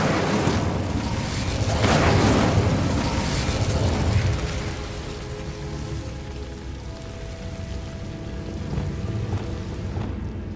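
Incendio fire spell cast in the video game Hogwarts Legacy, a loud whooshing fiery burst that swells in the first seconds then fades into a softer crackling rumble, with faint tonal game sounds behind.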